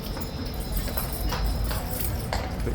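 A horse's hooves clip-clop as the horse moves around restlessly near a stable box. The rhythmic thuds sit under a steady, loud background noise.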